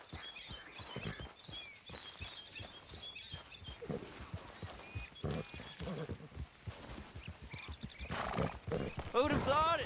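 Horses trot along in Red Dead Redemption 2 with irregular clip-clop hoofbeats, the occasional whinny and bird chirps behind, while people talk over the hooves.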